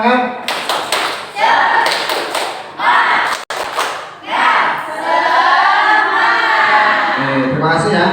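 Schoolchildren in a lesson perform a rhythmic clapping chant, with bursts of synchronized claps and thumps alternating with loud shouted group chanting, close and energetic.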